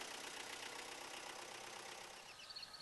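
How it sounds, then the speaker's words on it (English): Vermeer rubber tire trencher engine running steadily at idle after starting, a continuous even drone held at moderate level throughout without voices. "Start the engine."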